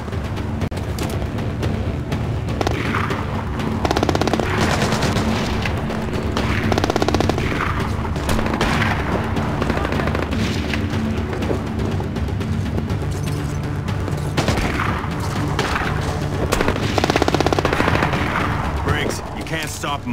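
Gunfire in the video game Splinter Cell Blacklist: dense, sustained bursts of automatic shots and heavy booms run loudly throughout, with voices speaking over the battle.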